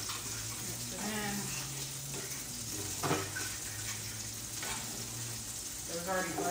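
Garlic, pepper and salt sizzle in melted butter in a pan, a steady frying hiss broken by a few scraping stirs, with brief speech in the background.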